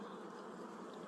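Honeybees in a hive fill the air with a dense, continuous buzzing hum, steady and close, faint overall and without any talk.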